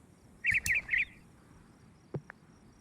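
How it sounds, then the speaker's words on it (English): Birds in the Orwell's Animal Farm video game give a quick burst of three bright chirps near the start, then a single faint, thin call a moment later, over a quiet farmyard background. "The birds are awake before anyone."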